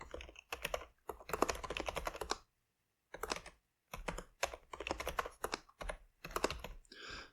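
Bursts of rapid computer-keyboard typing as JavaScript code is entered, close and clear, broken by short pauses between runs of keystrokes.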